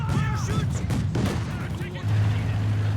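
A 7.5 LEIG 18 support gun fires in a Company of Heroes battle, booming shots and battle noise in a dense mix, with a voice talking over it throughout.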